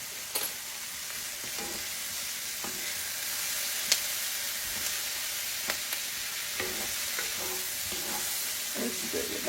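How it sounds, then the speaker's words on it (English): Zucchini, mushrooms and onions sauté in butter in a pan, giving a steady, close, moderately loud sizzle with scattered soft pops and an occasional sharp click, without any voices. "We're going to saute this and we'll be back."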